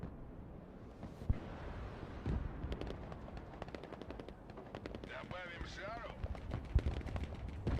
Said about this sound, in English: I mean, I'm shooting at him first.